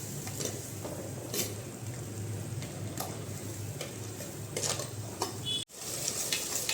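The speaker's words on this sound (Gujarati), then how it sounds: "હળદર ધાણા જીરું પાઉભાજી મસાલો ને બધું મિક્સ કરશું ફરીથી આપણે" Spices, including red chili powder, turmeric, coriander-cumin and pav bhaji masala, are stirred in a pan for dum aloo pulao, with a soft, steady sizzle and occasional light scraping clicks of the spoon against the metal.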